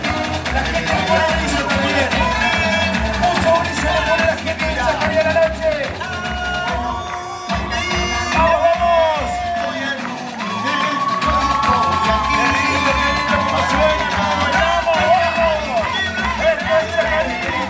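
A carnival crowd at a night parade in Chajarí shouts and cheers steadily over loud driving music, with a voice talking over the noise throughout.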